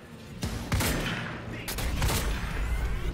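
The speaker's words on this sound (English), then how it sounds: "Can I shoot Paul?" Gunfire in the video game Quantum Break, a dense rapid burst of shots and impacts over a rumbling background, loud and close, with players talking over it.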